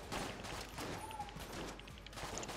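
A gun in the Enter the Gungeon video game fires a rapid stream of bullets, producing dense, continuous crackling gunfire that stays steady and moderately loud for the whole stretch without pause.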